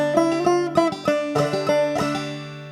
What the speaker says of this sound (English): Old Joe Clark is a classic place that a lot of people use a double thumbing pattern here. So without it, it sounds like this.